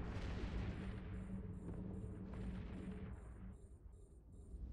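Ships fire weapons during a space battle in a video game, heard as faint, distant thumping bursts that fade. A rapid series of electronic beeps repeats steadily over the top.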